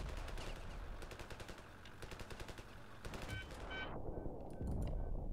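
Rapid machine-gun fire in the video game RavenField, a steady stream of shots in bursts that cuts off abruptly near the end, leaving a low rumble and faint background sounds.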